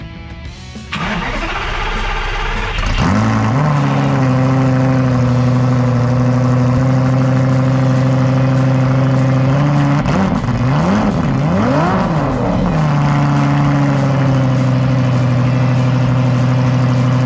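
A Lamborghini Gallardo with a freshly installed battery cranks and fires up, then settles into a loud, steady idle, with a couple of quick revs rising and falling midway before it holds the idle again.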